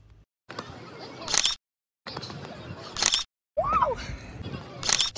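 Camera shutter clicks from souvenir photos taken on a visit to the Taj Mahal, three sharp bursts spaced about 1.5 seconds apart against a noisy outdoor background, with a brief voice-like sound in the middle.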